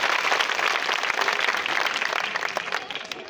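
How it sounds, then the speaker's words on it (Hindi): Students clap throughout a school event at an inter college in Fatehpur, a dense, steady round of applause from a large group, loud and continuous for the full few seconds with no talking over it. "इसके लिए तालियां बजा दीजिएगा।"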